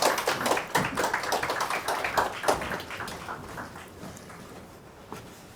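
An audience at a Busan seminar claps in welcome for a speaker, a brisk burst of many hands that gradually thins and fades to a few scattered claps.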